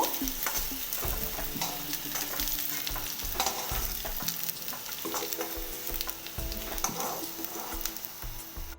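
Potatoes fry in hot oil in a pan, making a loud steady sizzle layered with scraping and stirring clatter from a spatula, close and continuous with no voices.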